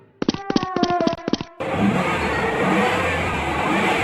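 A car engine accelerating: a quick run of short tonal honking pulses cuts off, then a loud, steady, rushing roar holds to the end, with no one talking.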